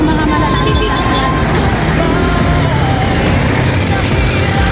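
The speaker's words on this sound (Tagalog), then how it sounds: "Naglalabasan yung mga malalaking sasakyan." Dense, loud roadway rumble as large vehicles pull out into traffic on a drive from Makati to Pasig, steady engine drone and tyre noise with no clear pauses.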